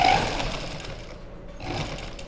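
A sewing machine stitches a salwar in a brief run, loudest at the start, easing off, then picking up again near the end.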